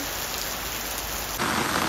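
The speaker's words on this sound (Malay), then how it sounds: "Rain quite heavily." Heavy rain pours down steadily, a dense close hiss of drops striking surfaces, growing louder and brighter partway through, with no voices.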